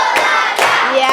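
A classroom of children clap together in a rhythmic pattern, three loud sharp bursts of group clapping with crowd noise, close and energetic.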